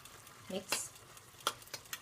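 Faint scrapes and clinks of a utensil stirring ragout meat sauce with ham or bacon, salt and chili in a pan, a few brief separate strokes against a quiet background.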